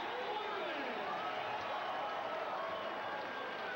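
Arena crowd at a heavyweight boxing bout between Lou Savarese and George Foreman applauding after the decision, a steady dense wash of clapping and crowd noise with voices mixed in, fairly distant and even throughout.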